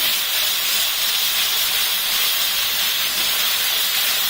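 Onion paste for a potato gravy frying in hot oil gives a loud, continuous, close sizzling hiss that stays steady throughout.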